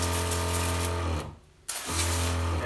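Petra HD5000 pressure sprayer blasting dirt and road salt off a car in winter, a loud steady motorized drone that cuts out briefly in the middle and then resumes.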